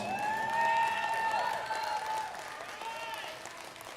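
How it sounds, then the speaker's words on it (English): Applause at a junior livestock show for beef cattle showmanship, a broad, moderate patter of crowd clapping with voices and some cheering mixed in, fading slightly toward the end. "Let's give a nice round of applause."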